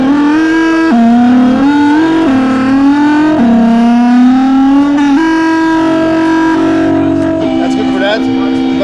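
A Gamechanger Audio Motor Synth produces a motor tone with a pitch that rises and jumps in steps, whining like a racing engine revving through gears, loud and continuous.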